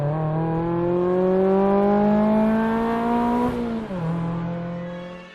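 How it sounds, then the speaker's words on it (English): An ND2 Miata with an OS Giken exhaust pulls away in a rising, raspy engine note that climbs steadily, drops sharply at a gear change, then carries on at a lower pitch. "Now you can enjoy that new exhaust"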